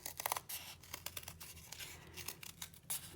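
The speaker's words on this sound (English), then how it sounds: "I'm going to take my kitchen scissors and just trim it off a little bit" Kitchen scissors snip through fabric in a quiet, close series of irregular cuts with faint scratchy rustles between them, no voices present.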